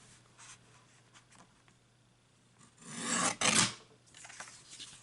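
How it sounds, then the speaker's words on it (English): A small paper trimmer cutting card for a pop-out card: a loud rasping slice lasting about a second, preceded by faint handling rustles and no talk. "Now I'm just going to cut this. A little trimmer here."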